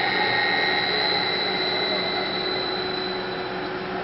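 Motor driven by an Allen Bradley 1336 variable frequency drive ramping down to a stop, giving a loud, steady electrical whine and hum with high tones that hold throughout.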